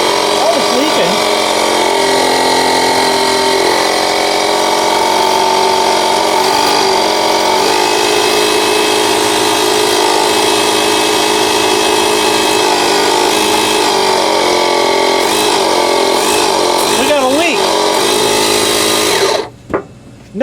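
A pump runs loud and continuous during a repair of an Oittm device, a dense steady whine with wavering tones throughout that cuts off abruptly near the end.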